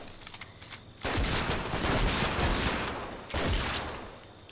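Gunfire in Fortnite season 6: a dense burst of rapid shots rolls on for about two seconds, then a second burst follows after a short gap, over quieter game sounds.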